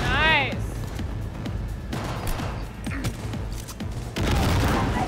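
Grenade blast in Cyberpunk 2077 amid combat, a burst of booming impact and debris near the end after scattered gunfire, with game sounds and voices throughout.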